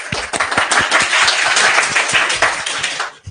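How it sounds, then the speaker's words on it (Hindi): A classroom of students claps together in a short, close burst of quick, loud, uneven handclaps lasting about three seconds before it stops abruptly. "वाह भाई साहब, तालियां।"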